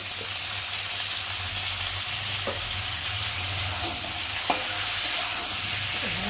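Cumin, ginger and onion pastes with tomato frying for a prawn curry, a loud continuous sizzle with occasional stirring knocks and scrapes, close and alone without speech.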